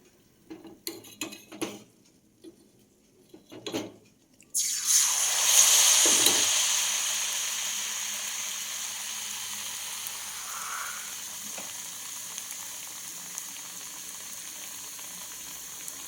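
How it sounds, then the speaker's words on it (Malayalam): Battered sweet potato pieces dropped into hot oil start a sudden, loud deep-fry sizzle that slowly eases into a steady bubbling hiss, preceded by a few faint clinks and taps in a quiet kitchen. "ഇപ്പോൾ ഓരോന്നായിട്ട് മുക്കി എണ്ണയിലോട്ടിട്ട് വറുത്ത് കോരാം"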